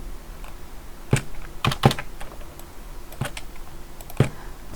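Computer keyboard shortcut keys are pressed in quick combinations, giving a handful of sharp, close clicks in irregular clusters against quiet room tone.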